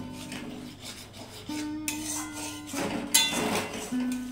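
Paneer in a thick Bengali-style masala scraped and stirred again in a pan after a splash of water, a close rasping, scraping rhythm with clinks of the utensil against the metal.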